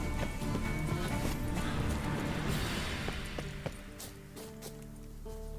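Horse hooves clip-clop at a fast gallop in a video game, a steady rhythmic pounding amid busy game sounds and music, with a brief whinny; no one talks.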